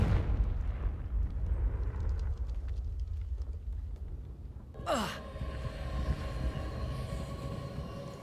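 Someone casts the Confringo explosive spell in Hogwarts Legacy. A rushing swoosh sweeps downward into a burst, then a ringing, humming tail hangs over a rumbling background.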